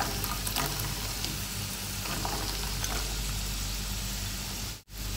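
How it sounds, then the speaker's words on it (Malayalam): Diced onions sautéing in a hot pan as filling for beef stuffed idli, a steady broadband sizzle close by that runs throughout with faint stirring scrapes, cutting out briefly near the end. "ഇനി ഇത് ചെറുതായിട്ട് വഴറ്റി കൊടുക്കണം കേട്ടോ."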